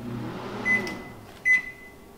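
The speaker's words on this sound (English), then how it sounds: "I'm gonna set the microwave for 2 minutes and push start" A Panasonic Home Chef NN-CD87KS inverter microwave runs with a low, steady hum, and two short bright beeps sound partway through, close and clear in a quiet kitchen.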